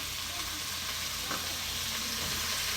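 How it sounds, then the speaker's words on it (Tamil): Brinjal and mixed vegetables sautéing in oil with mustard seeds in a pan for kootu kuzhambu, a constant dense sizzle up close with a faint stir midway. "போட்ட கத்திரிக்காவை நல்லா வணக்கிக்கலாம்"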